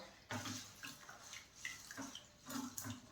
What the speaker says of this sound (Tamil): கழுவிடுவோம், நல்லா 2-3 தடவை கழுவிடலாம்.